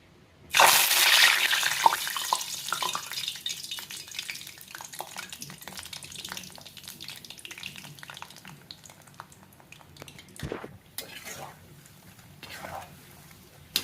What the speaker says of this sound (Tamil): இப்போ இதை வந்து ஃப்ரை பண்ணி எடுத்துடலாம்.